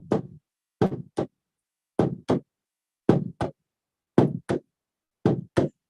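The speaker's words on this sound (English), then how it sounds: "I have my hand drum." Hand drum struck in paired beats, a strong hit followed quickly by a softer one, repeating steadily like a heartbeat, close and alone with no talk.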